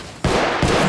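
Gunfire in the mobile shooter Apex Legends Mobile, with two loud close bursts of shots, a short one and then a longer one after a brief gap, on top of a quieter background of game sound.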